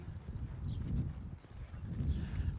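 A ridden horse moves in a three-beat canter, its hooves thudding in a steady rolling rhythm on soft ground, moderately close, with a faint breathy snort.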